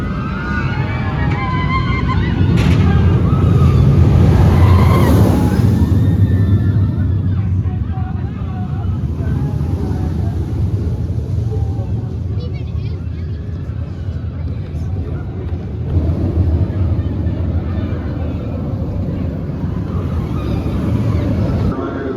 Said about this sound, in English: we just rode Yukon Striker, front row actually